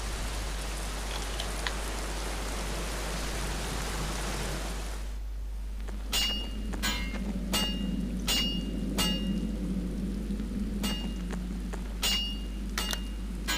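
Rain pours in a steady hiss for about five seconds in the Black Mirror adventure game, then stops, leaving a low hum and a few sharp clicking taps.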